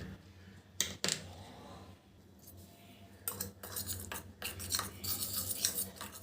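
Spoon scraping and clinking in a bowl while powdered curry leaves and mustard are mixed into coconut oil, irregular close taps and rubbing scrapes with quiet gaps between them.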